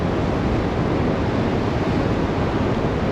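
Strong wind and rough waves buffet a ship at sea in the Bay of Biscay, a loud, dense, unbroken roar of gusting air and surging water close to the microphone.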